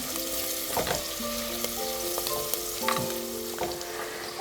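Bay leaves and a two-inch piece of cinnamon frying in ghee, a steady soft sizzle with several scraping stirs of a spoon against the pan, no voices.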